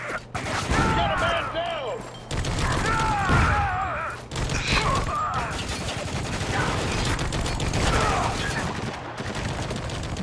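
Shotgun blasts and other weapons fire from Spec Ops: The Line's video game combat, loud repeated bangs and bursts across the clip, mixed with game voices and shouted chatter.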